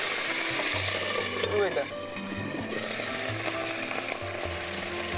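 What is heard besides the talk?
yogurt frying in oil for mutton roast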